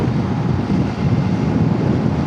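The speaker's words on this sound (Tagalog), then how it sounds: "Grabe yung hangin." Loud, constant wind rushing against the microphone during a motorcycle ride, a heavy low roar with no pauses.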